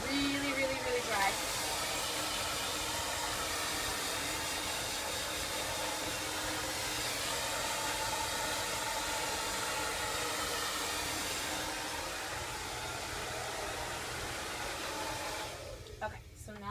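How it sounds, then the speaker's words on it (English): A hair dryer blows in a continuous loud rushing hum while drying hair before curling, running nearly the whole time and cutting off just at the end. "So you're just going to dry until your hair is really, really, really dry."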